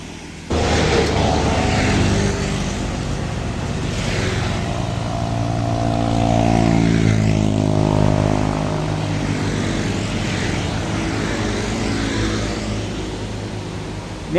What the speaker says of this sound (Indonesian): Ini ada mobil elep rombongan untuk ke pariwisata mungkin